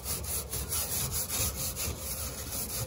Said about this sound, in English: Let's give this a scrub.